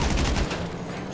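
A quick burst of rapid gunfire in GTA 5 Online crackles loudly, dense and continuous for about a second before fading into noisy background.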